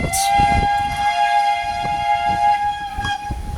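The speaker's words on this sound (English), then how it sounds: "There's the whistles." A train at the Fairbourne Miniature Railway gala pulls away with a sustained, steady whistle sounding over the rumble and clatter of the wheels, loud and close.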